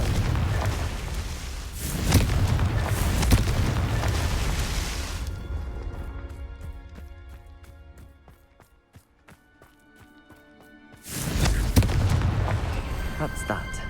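Spell explosions from the Confringo curse in Hogwarts Legacy, a loud booming blast that rumbles then fades into a quiet ringing tail before another heavy burst hits, with spoken words at the start.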